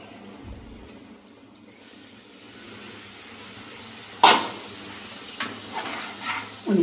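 A stuffed bitter gourd curry is stirred in a pan with a little water added, giving soft scraping and sizzling that is quiet at first, then a few sharper clinks and scrapes of the spoon toward the end.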